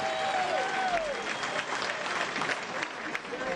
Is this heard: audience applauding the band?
yes